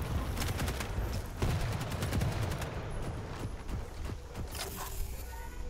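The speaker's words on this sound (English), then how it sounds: "Trying to hit me with the quad damage railgun." A quad damage railgun fires in repeated sharp cracks in the arena shooter Quake Champions on the Ruins of Sarnath map, loud, close and mixed with other weapon fire.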